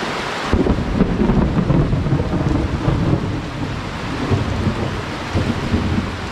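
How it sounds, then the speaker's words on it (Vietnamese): Heavy rain pours down in the dark early morning while thunder rolls and rumbles through it, a loud continuous downpour with deep booms and no talk. "Buổi sáng sớm ngày hôm nay thì trời mưa rất là to"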